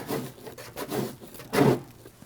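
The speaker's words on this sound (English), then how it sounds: "as I pull back on this section of the pad and continue to scrape at the glue line." A scraper works along the glue line of an old foam hood pad being peeled off a car hood, giving bursts of close, rough rubbing and rasping with a louder scrape near the end.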